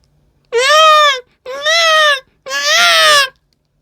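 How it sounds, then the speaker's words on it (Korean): An infant cries in three loud, wailing bursts close by, each about a second long with short pauses between, in a retelling of a Korean folk legend set on a still sea. "아기의 울음소리가 굳어버린 바다 위의 정적을 깨뜨리고 들려왔다"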